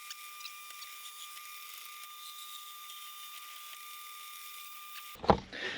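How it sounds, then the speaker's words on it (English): A drill press fitted with an auger bit bores through scrap wood: a steady high motor whine runs for about five seconds, then a short, loud, rough burst of cutting noise near the end, with no talking. "this is an auger bit, hopefully it is sharp enough"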